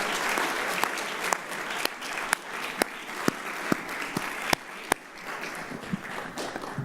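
A school audience applauds after prefect speeches, steady clapping from a hall crowd with sharper individual claps standing out, moderately loud and continuous without speech.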